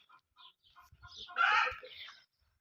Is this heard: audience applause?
no